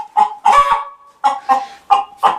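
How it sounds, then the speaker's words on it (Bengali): Tiger-breed chickens cluck and squawk loudly in several close bursts with short gaps between them, their sharp calls standing alone with no talk. "মুরগি তো চিল্লাচ্ছে।"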